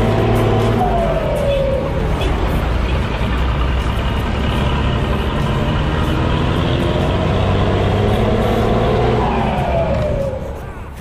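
The diesel engine of an aging Mercedes-Benz OH 1521 bus runs loud and close in a steady, rumbling drone with a slight rise and fall in pitch, easing off near the end.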